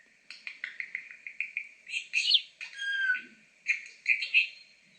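A pet bird chirps close by in quick repeated notes, then breaks into louder, harsher squawks and trills in several bursts.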